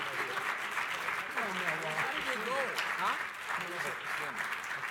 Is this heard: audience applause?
yes